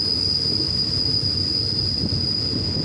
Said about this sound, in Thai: ขณะนี้ขบวนรถธรรมดาขบวนที ่ 284รับส่งผู้โดยสารทางจากมีสู่กระเม็ดปลายทางสังกีกรุงเทพกำลังจะเข้าเทียบที่ สถานีรถไฟอุตภานะครับ